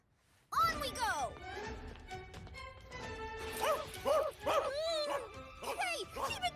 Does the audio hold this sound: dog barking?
yes